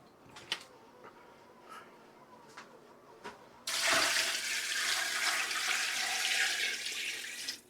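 After a few soft clicks and knocks, water suddenly gushes in a steady, loud stream, pouring continuously into a large stock pot, about three gallons, until the end.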